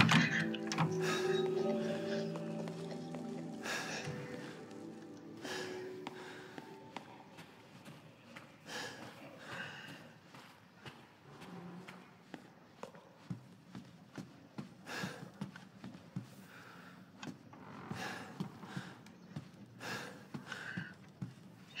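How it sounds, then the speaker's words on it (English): Heavy breathing from a character in Resident Evil Village, labored gasps and sighs at first, then a run of rhythmic footfalls and breaths, close and moderately loud. "he's only going a couple of feet, and he's breathing that hard"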